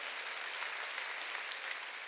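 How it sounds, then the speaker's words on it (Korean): Church congregation applauding during a Sunday worship service, a thick continuous wash of clapping from many hands, steady and even with no voices standing out. "박수로 하나님께 영광 돌려"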